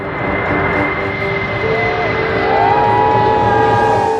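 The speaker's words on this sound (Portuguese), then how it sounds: "O Stratolaunch Model 351 é um avião de transporte estadunidense." Stratolaunch Model 351, a huge twin-fuselage transport aircraft, flying with a loud, steady engine roar and drone that swells slightly toward the end, with no voices.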